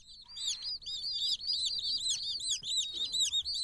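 Black silkie (ogolgye) chicks chirp in a busy chorus of high, rapid peeping calls, overlapping and continuous, close by with no talk.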